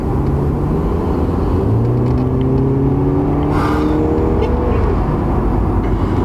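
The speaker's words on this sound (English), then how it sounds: "I just really like the whooshy turbo sounds that it makes" Loud 2003 Subaru WRX engine droning and rising through the gears from inside the cabin, with a faint turbo whoosh layered over the steady rumble.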